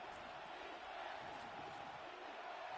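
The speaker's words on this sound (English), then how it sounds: "this crowd's going to get even louder" Steady roar of a stadium crowd in Madden NFL 26, Bills vs Raiders, building ahead of a third-and-goal snap; a dense, continuous wash of cheering voices with no distinct talk.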